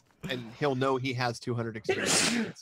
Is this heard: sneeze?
yes